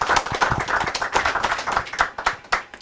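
A small press conference audience claps for about three seconds, the claps quick, irregular and close, with no voices over them.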